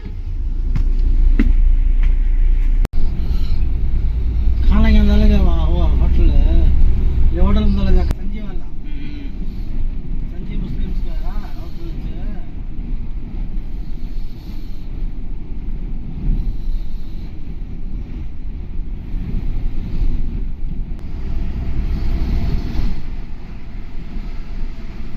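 Volvo multi-axle AC semi-sleeper bus at full speed, heard from the front driver's cabin: steady loud engine and road rumble with wind noise, while people talk over it early on.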